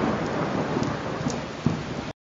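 Heavy monsoon rain pours in a steady, dense hiss with low rumbles of thunder underneath, continuous and loud before cutting off abruptly.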